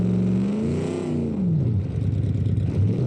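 In the racing game Automation, a car engine revs hard on a clutch drop, its pitch sweeping up and falling back before settling into a loud, rough, clattering idle drone.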